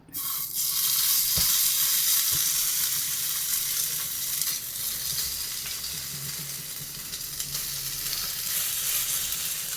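A bread and egg mixture frying in melted butter in a pan gives a loud, steady sizzling hiss that starts abruptly and holds through, with a few soft clicks of utensils.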